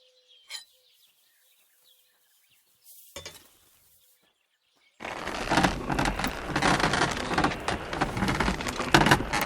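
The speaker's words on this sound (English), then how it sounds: "Pissing down rain again." Heavy rain in the medieval game Kingdom Come: Deliverance bursts in suddenly after a few near-silent seconds with faint isolated ticks, then pours as a dense, steady hiss for the rest of the clip.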